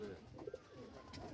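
Domestic deshi, giribaj and jalali pigeons cooing together inside a netted enclosure, a few soft low coos standing out amid a steady murmur of flock sounds, fairly close and quiet.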